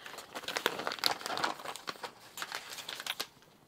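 A plastic vacuum bag crinkles and crackles as it is handled, a close, quiet run of irregular rustles and sharp crinkles with no voices.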